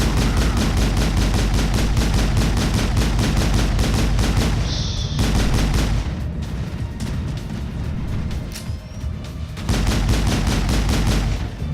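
Rapid, loud gunfire in Mass Effect from a sniper in a tower, a dense stream of sharp shots that breaks off briefly and resumes, with no voices.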